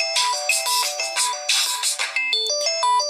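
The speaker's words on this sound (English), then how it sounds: "My alarm went off." A phone alarm rings loudly on its own, a bright electronic melody of stepped tones that repeats in quick, even phrases with no talking over it.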